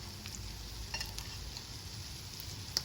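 Pastrami Reuben and Rachel sandwiches fry in butter on a griddle, making a low, even sizzle with a few faint crackles, quiet and steady throughout.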